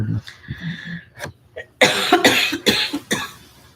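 A person coughs several times in a rough, harsh burst of close hacking, following a few brief vocal sounds.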